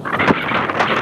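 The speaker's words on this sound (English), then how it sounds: "It's pretty windy" Gusty wind buffets the microphone with a loud, rumbling roar for a brief moment, no voices heard, on a windy day by the water with jet skis and parasailing.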